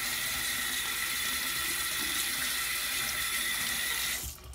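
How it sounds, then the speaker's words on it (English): Running tap water pours steadily into a sink as makeup brushes are rinsed, a loud continuous broadband rush that cuts off abruptly at the end. "Rinse a little bit."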